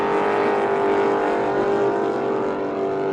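Engines of 6-litre hydroplane racing boats roar steadily on the water at the Glenmaggie Cup, a loud, continuous droning whine with no break.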